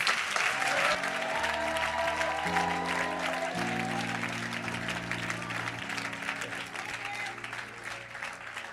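A congregation claps and cheers at a church gathering, loud and sustained applause under sustained musical tones, with some voices mixed in as it slowly tapers.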